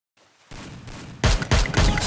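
Rapid bursts of video game gunfire crack out loud and close, two heavy volleys following a quieter stretch of background game noise.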